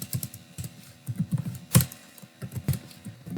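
Computer keyboard typing code, a quick irregular run of close, crisp key clicks with one louder key strike near the middle, no voices.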